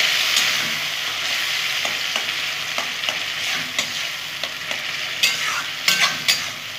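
Tomato, eggplant and potato fry dry with kalonji in a pressure cooker, a steady close sizzle broken by repeated scraping stirs and soft metallic taps, no voices.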